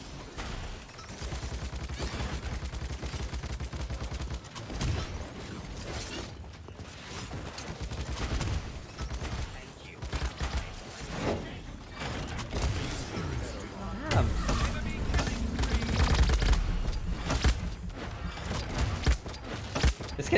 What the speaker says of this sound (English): Wow, good rockets.